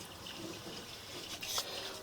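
Steady splashing and gurgling water inside a sewer pipe as an inspection scope camera goes underwater, a continuous wet wash at low level with a brief brighter swell near the end.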